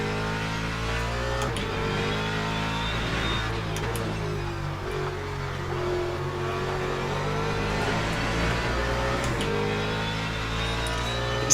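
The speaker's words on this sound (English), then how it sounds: "Appears to be a Cadillac. One of the best sounding hypercars." Cadillac hypercar engine at Sebring during a WEC race weekend, a steady loud mechanical roar with harmonic engine tones throughout, rising slightly as it passes, no talking.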